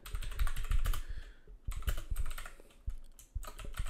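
Rapid, uneven clatter of keys as code is typed on a computer keyboard during a PHP and SQL Server programming session, close and clear with brief pauses between bursts, no talking.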